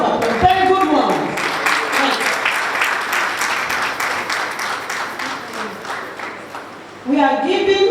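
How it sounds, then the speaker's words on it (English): Audience applause for a Chief Magistrate at a bar association women's forum summit, with dense steady clapping from a large crowd throughout, fading slightly before a voice cuts in near the end. "Round of applause for the Chief Magistrate who is going to be the lead speaker"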